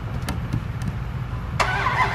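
An old truck with an SRT-10 hood cold-starts: short cranking bursts, then the engine catches with a loud surge and settles into a steady, rough-running drone.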